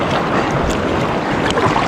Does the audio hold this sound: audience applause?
no